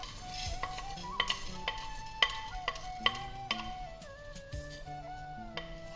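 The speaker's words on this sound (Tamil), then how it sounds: "மிளகு சேர்த்து ட்ரை ரோஸ்ட் பண்ணலாம்." A spoon stirs and scrapes coriander seeds, cumin and black pepper dry roasting in a clay pot over a medium flame, with scattered light clicks and rattles. No one speaks.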